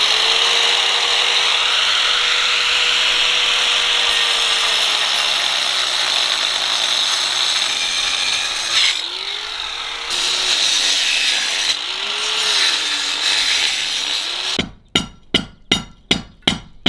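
A saw rasps steadily through wood for several seconds, then a handful of sharp, evenly spaced knocks close by, like hammer blows, during window enlarging work.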